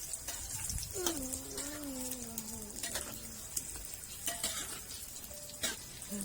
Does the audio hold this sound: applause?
no